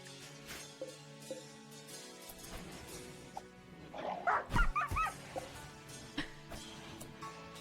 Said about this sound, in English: They're fighting a dog.